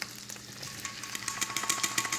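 Crackling, popping sizzle of fried matzo with egg and onion in a frying pan, with irregular bursts growing busier toward the end, close and fairly quiet.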